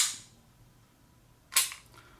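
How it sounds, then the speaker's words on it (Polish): A pistol slide snaps forward after release: one sharp, close metallic crack, then a softer click about a second and a half later, with near silence between. "Jeżeli ściągnę to w dół, zamek odbije."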